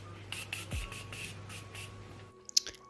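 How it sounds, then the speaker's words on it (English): Continuous setting mist sprays from a makeup bottle in a series of quick, airy hissing bursts, close and soft, followed by a small click after the spraying stops. "I am just gonna spray the continuous spray."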